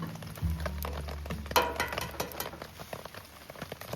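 Eggs frying in a pan that is too hot on a winter camping trip, a loud crackling sizzle bursting up at first, then settling into steady popping and spitting, close by with a low rumble beneath.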